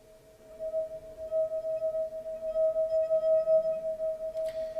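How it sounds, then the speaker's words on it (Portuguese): A wine glass resonating at its natural frequency, a steady pure ringing tone that holds without a break, faint and alone with a little background hiss. "é a frequência de ressonância dessa taça"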